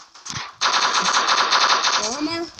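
Automatic gunfire from a weapon in the video game Block Strike rattles out in a rapid, continuous burst lasting nearly two seconds after a brief single shot.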